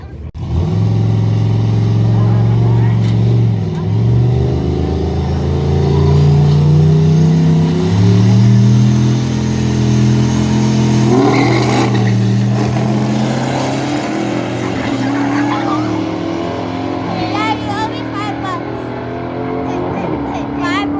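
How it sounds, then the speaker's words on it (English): Cars revving and accelerating at a late-night street race, a Hellcat and trucks with trailers gathered around, engine roar loud and sustained with rising pitch sweeps, background voices and crowd chatter mixed underneath. "Late night street racing going on."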